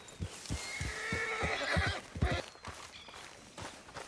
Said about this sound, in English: Taking Javier's horse.